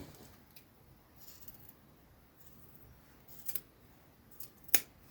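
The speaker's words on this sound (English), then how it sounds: "I'm just going to trim out a little bit of that fabric" Scissors trim excess stretch fabric close by in a quiet room, giving a few faint cuts and then two sharper snips near the end.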